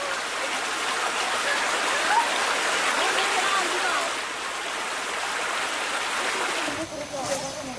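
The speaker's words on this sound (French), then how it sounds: "La frontière avec le Laos, c'est cette petite rivière." A small jungle river on the Laos border runs with a steady broadband rush of flowing water, constant and fairly loud, easing slightly near the end.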